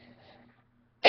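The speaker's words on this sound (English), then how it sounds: "you might hear coughing" One abrupt, loud cough erupts at the very end, close to the mic, after a quiet moment with faint background murmur.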